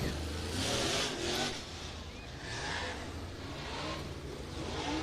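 A dirt-track race car runs laps at All Tech Raceway in Ellisville, Florida, its engine a steady, fairly distant roar that swells and fades with a rushing crowd-and-track wash behind it.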